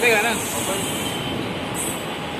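Steady rumbling rattle of a moving Mumbai local commuter train heard from inside a carriage, with a brief voice at the start and broadband noise throughout.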